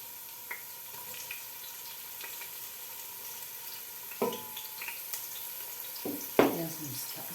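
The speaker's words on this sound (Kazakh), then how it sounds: "Пиязымызды аса қатты қуыра бермейміз." Carrots and onions fry quietly in a pan, giving a soft, steady sizzle with a few sparse clicks and stirring taps scattered through it.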